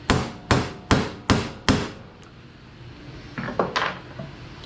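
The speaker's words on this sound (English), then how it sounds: "right now I'm hammering straight down" Five sharp metallic hammer strikes on a timpani rivet backed by a punch used as an anvil, evenly spaced and close, followed by a few lighter, quicker taps after a short pause.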